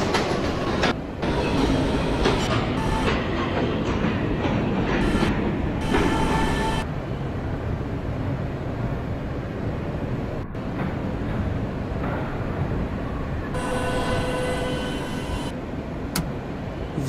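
An E train on the New York subway rumbles along its rails for a long stretch, loud and close, with rhythmic clatter, occasional squeals and a few sharp brake hisses, no voices.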